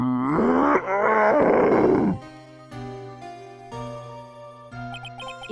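A scream effect from the Phoenix Wright: Ace Attorney game, a loud, strained, wavering cry that lasts about two seconds, then gives way to quiet, tinkling synth music notes.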